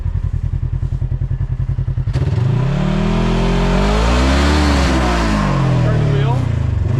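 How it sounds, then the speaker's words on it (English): A Polaris RZR engine with adaptive joystick throttle controls pulses at idle, then revs up loudly in neutral, rising and falling in pitch as the throttle is held and released. "Okay, rev it up again."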